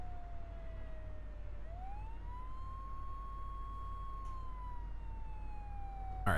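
A wailing ambulance siren in the Flashing Lights emergency-services game, one long tone dipping and then rising into a steady held pitch that stays loud and clear over a constant low engine and road rumble, with no talking.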